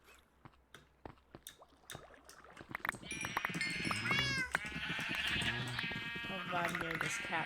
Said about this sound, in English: I'll vibe near this cat for a little while.